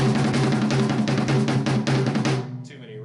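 A drum kit plays a steady, busy beat with repeated hits throughout, loud and close, then the kit cuts off near the end, leaving a fading ring.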